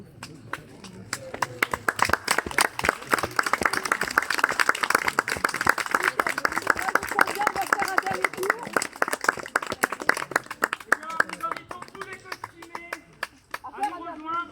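Audience applause and clapping at an outdoor 1900-style costume parade in Breteuil, a long steady wash of many hands with an announcer's voice briefly over it near the end.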